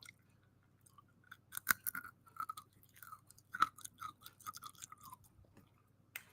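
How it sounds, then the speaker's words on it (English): Crispy roasted chickpeas being chewed close to a microphone, giving a run of sharp, irregular crunches over about six seconds, loud and near, with no talking. "Oh, yeah, you can hear that crunch."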